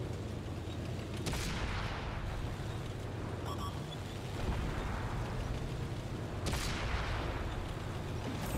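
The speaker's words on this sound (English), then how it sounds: "A huge hit by my artillery teammate to one-shot that E25" Artillery shell slamming into an E25 tank in World of Tanks, heard as a couple of sharp blasts with rumbling explosive bursts spread through a noisy, steady battlefield background, moderately loud and without talk.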